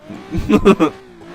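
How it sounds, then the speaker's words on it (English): A Nissan 350Z engine revving at a drift event, three or four quick close pulses rising and falling within about a second, mixed with a voice talking. "someone is revving the tits up at 350"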